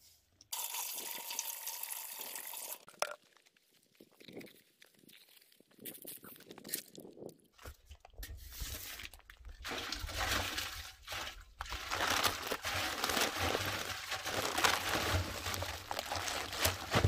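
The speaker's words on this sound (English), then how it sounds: "I'm only using these to demonstrate the exact amount of water I'm adding." Water is poured into a cement mix for aircrete, giving a soft trickle that swells into a steady gushing, splashing pour.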